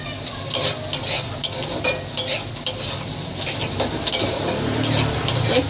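Potato pieces sizzle and fry in a pan while being stirred with a utensil, with scraping clinks of metal on the pan, steady and close throughout, no talking.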